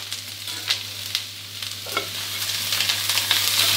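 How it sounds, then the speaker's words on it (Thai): Broccoli and shrimp are stir-fried in hot oil, a steady bright sizzle with sharp clacks of the spatula against the pan, the frying growing louder and busier toward the end. "ผัดให้บรอกโคลีโดนกับน้ำมันร้อนๆสักครู่เดียวนะครับ"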